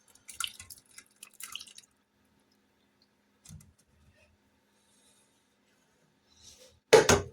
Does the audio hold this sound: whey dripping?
yes